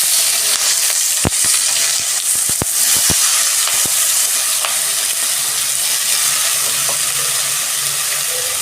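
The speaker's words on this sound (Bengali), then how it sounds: "লাউটাকে আমি একটু ভেজে ভেজে নেব।" Bottle gourd fries in a little oil in a wok with a loud, steady sizzling hiss, broken by sharp spattering clicks and pops.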